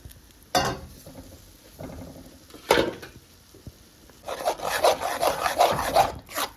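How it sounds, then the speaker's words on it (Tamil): A spoon scrapes and stirs thickening biscuit halwa in a pan over a low flame, with a few separate strokes followed by a longer run of close, rapid scraping; nobody speaks. "நல்லா போட்டு கிளறணும்."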